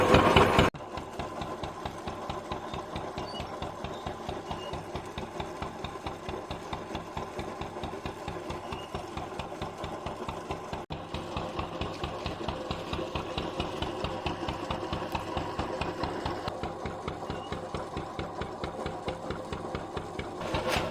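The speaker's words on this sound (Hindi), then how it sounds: "ट्यूबवेल है ये।" Tubewell pump engine running to irrigate farm fields, a steady close mechanical chugging with a fast even beat that continues without a break throughout, with no talk over it.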